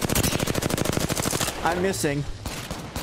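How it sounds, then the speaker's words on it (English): Rapid automatic gunfire in a battle-royale shooter video game rattles loudly in a fast burst for about a second and a half, then a player speaks over the tail of the fire and scattered further shots. "I'm shooting crypto and I'm missing."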